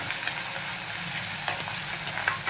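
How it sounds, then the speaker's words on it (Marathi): Onion and green chili pieces fry in hot oil for a green tomato chutney, giving a steady close sizzle with soft scraping from stirring and no voices. "कांदा थोडा नरम होईपर्यंत आपल्याला परतवून घ्यायचा आहे 1-2-3 मिनिटं"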